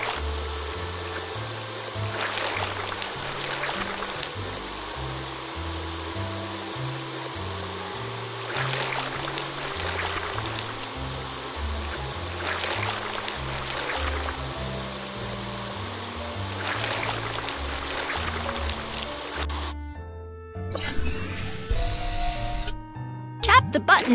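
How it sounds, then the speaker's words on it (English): A steady hiss from a video game water sprayer rinsing a truck runs continuously beneath cheerful background music, ending with a few abrupt digital sound effects. "drag the water sprayer to rinse off the muck"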